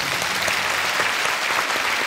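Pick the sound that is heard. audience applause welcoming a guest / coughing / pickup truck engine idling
audience applause welcoming a guest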